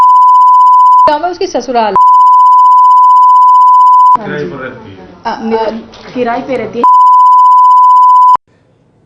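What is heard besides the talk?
censor beep hiding a rape victim's identity in news report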